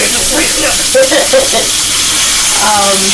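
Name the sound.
food frying in a pan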